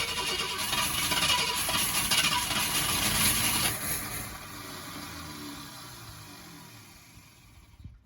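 A Ford Thunderbird engine cranks and turns over after Holley carburetor work, a steady close mechanical churn that loses some of its brightness midway and fades toward the end.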